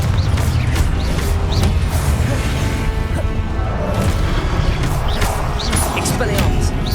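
Confringo spell blasts in the Hogwarts Legacy video game: repeated crashing, whooshing impacts and mechanical clatter layered with game effects, loud and busy, with a character's voice calling out spells.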